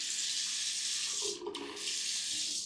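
Water runs steadily from a bidet tap in a Rome bathroom, a close, constant hissing splash that briefly dips before resuming.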